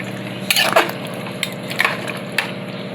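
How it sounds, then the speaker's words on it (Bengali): Mutton curry with potatoes and tomato being stirred in a pan on a Bengali home stove, giving a steady oil sizzle with a few scraping stir strokes of a spoon against the pan, close and moderately loud, with no talk. "এই টমেটো দিয়ে দিলাম। দেখুন বন্ধুরা এবার নেড়ে দেবো একটু।"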